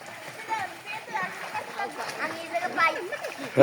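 Water splashes as a child learns to swim in Pirojpur, light splatters scattered under near, continuous adult voices coaching in Bengali.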